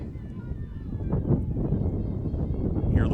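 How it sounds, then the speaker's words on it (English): Gusty wind at an outdoor women's college soccer match between Saint Vincent and Grove City roars as a low, rumbling buffet across the microphone, rising and falling under a faint distant whistle or voice. "Hear the wind gusting in the background again."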